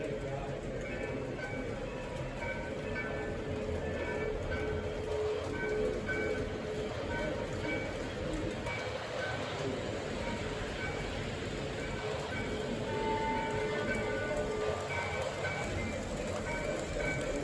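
A model railroad train runs steadily on its track at a hobby shop meetup, a faint continuous rumble and rolling clatter heard under people talking nearby.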